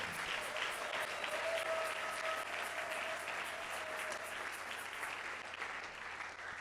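A church congregation claps and cheers continuously, a dense, steady wash of applause from a large crowd that holds at an even level and then slowly eases off near the end.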